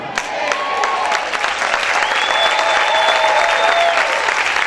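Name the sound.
audience applause in church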